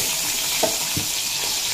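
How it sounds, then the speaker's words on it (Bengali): Potatoes frying in oil in a home kitchen, a steady close hiss and sizzle with a couple of faint stirring clinks. "এরপর ওই তেলে ভেজে নেব আলু।"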